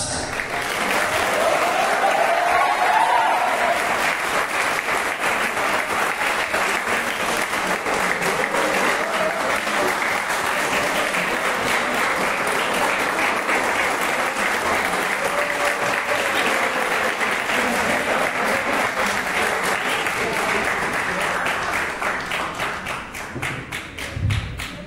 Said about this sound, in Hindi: यही नै छ कि दुनियाँ तिमीहरूको लागि यस्तै लगातार ताली मारोस्